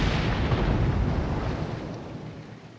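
An explosion in the naval battle game World of Warships: Legends bursts as a deep, booming rumble that rolls out and slowly fades over a few seconds.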